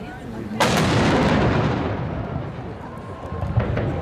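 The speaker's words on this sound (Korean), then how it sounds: "정오를 알리는 대포를 쏘는 시간이 다가왔기 때문이다." A noon cannon fires at the St. Petersburg fortress, a tradition since 1873: one sudden, very loud boom followed by a long rumbling decay and echo, with a softer thump near the end.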